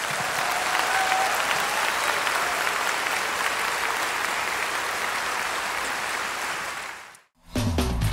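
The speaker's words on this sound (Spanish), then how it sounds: "Aleluya, da un aplauso a Dios." Congregation applauding in a church, dense sustained clapping that fills the room and holds steady for about seven seconds before stopping abruptly, followed by a short burst of other sound.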